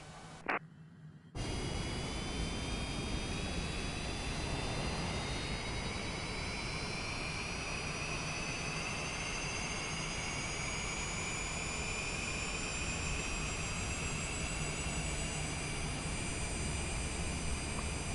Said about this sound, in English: warming the engines up